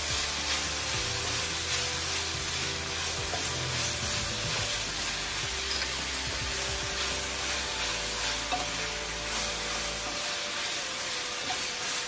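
Egg roll filling sizzles and crackles loudly in a very hot pan as it is stir-fried, a continuous frying hiss with occasional stirring scrapes, no voices.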